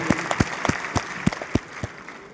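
Roughly eight scattered, separate claps from a small audience at a talk, irregular and fairly close, over a quiet room hum with no cheering.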